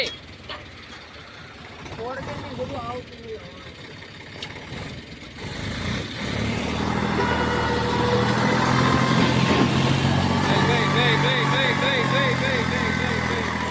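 A tractor engine runs steadily through a farm trip, low and droning, growing louder and fuller midway, with people talking over it throughout.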